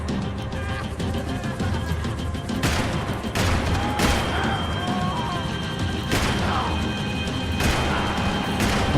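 Gunfire in the Max Payne 3 video game, loud bursts of shots and impacts at irregular intervals over a busy action soundscape, with voices talking in between.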